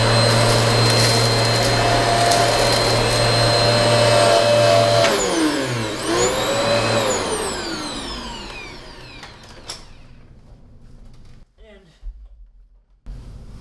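A Hoover MAXLife bagless upright vacuum cleaner, model UH75100, runs with a loud, steady whine and roar. It then switches off and winds down in a falling whir, followed by quiet with a few light knocks.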